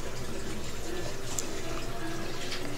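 Mixed corn jelly batter for maja is poured into a pot on a stove that is still off, giving a soft, continuous liquid pour that is quiet and close.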